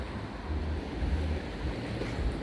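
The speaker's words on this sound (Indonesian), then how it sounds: "Ini kita udah sampai di pantai nih." Surf washing onto the beach at Gili Trawangan, a continuous rolling rush of waves mixed with wind buffeting the microphone, fairly loud and close, with no voices.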